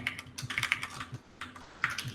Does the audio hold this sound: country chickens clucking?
no